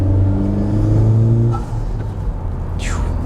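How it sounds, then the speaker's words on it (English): Intake of a 2020 Honda Civic Type R, loud and close: a deep engine drone rises in pitch, drops back as the revs fall, then a short rising whine, with no talk. "I love hearing that intake."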